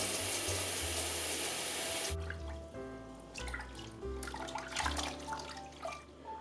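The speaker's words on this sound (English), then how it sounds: "And I add water a second time." Water runs and splashes into a pot holding face masks for about two seconds, then stops, followed by light clinks, drips and handling sounds nearby.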